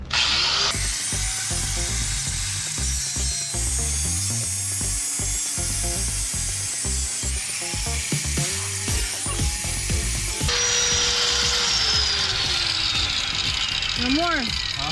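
A power tool cuts steel in place at the rear of a GMC Sierra pickup during a lift job, making a loud, continuous rattling, ratcheting mechanical grind with shifting pitch, as voices talk over it.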